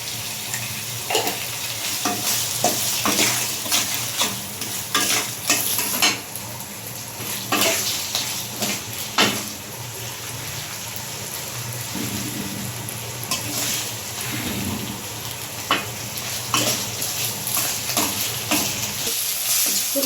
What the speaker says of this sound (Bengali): কষিয়ে নিচ্ছি।